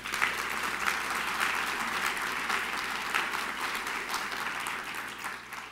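Audience applause for young writers at a library literary award ceremony, a steady, fairly distant wash of many hands clapping that carries evenly for several seconds over a low background hum.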